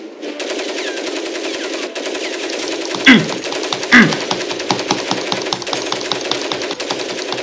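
Rapid automatic gunfire in the shooter game Crysis, a continuous close burst of evenly spaced shots running the whole time, with a couple of louder impact hits standing out midway.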